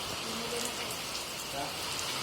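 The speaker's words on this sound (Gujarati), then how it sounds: "વરસાદ તો વાતે રહેવાનું નામ નથી લેતો" Steady rain falls during a monsoon-season family outing, a constant soft patter and hiss of drops filling the whole stretch.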